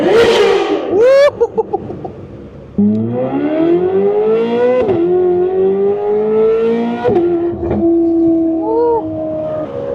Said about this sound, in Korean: 전 이 하이피치 사운드가 너무 좋아요, 진짜